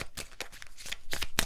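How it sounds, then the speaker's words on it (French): Angel oracle cards of abundance being shuffled and drawn, a quick run of crisp, close riffling flicks in several bursts with a sharp snap near the end. "On va prendre une carte des anges de l'abondance."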